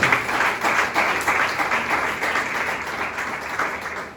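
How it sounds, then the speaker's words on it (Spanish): A church congregation claps loudly and steadily for the Lord, a dense, continuous wash of applause that holds throughout without speech. "Den ese fuerte aplauso al Señor."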